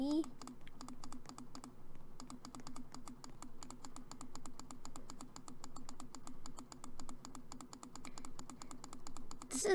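Rapid, steady mouse clicks while mining rocks in a Roblox video game, crisp and close, with a voice talking over them throughout.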